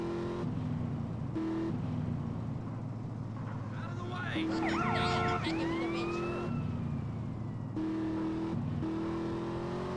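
Police car siren wailing in GTA San Andreas, a rising and falling electronic whoop that repeats in short bursts over engine noise and game music, with someone talking over it.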